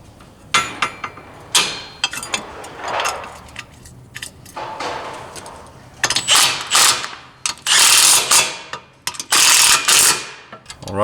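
Lift kit bolts are tightened on a CFMOTO UFORCE 1000 side-by-side with a ratchet: bursts of rapid clicking pawl action, short at first then longer, louder runs, with brief pauses between.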